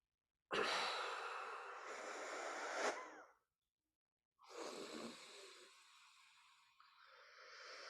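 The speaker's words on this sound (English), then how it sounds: "And we inhale and exhale 3 times." A person breathes deeply during meditation: a long, close, airy inhale, then a pause, then a slower exhale that trails off softly in a quiet room.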